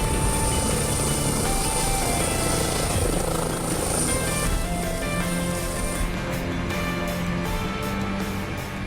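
An air ambulance helicopter lifts off, turns and hover-taxis, its loud rotor and engine roar close by and steady throughout, with a slight shift in tone as it moves.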